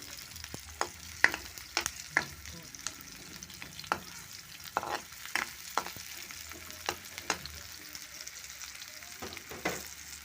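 Onions sautéing in a pan for a bitter gourd and scrambled egg dish, with repeated sharp spatula scrapes and taps over a soft, low sizzle, close but quiet.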